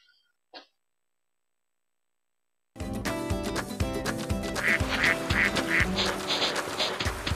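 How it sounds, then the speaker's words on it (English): After a brief soft blip and silence, a cartoonish duck quacks repeatedly over busy music in the video game The Dog Island, several short nasal quacks in a row. "I heard a duck."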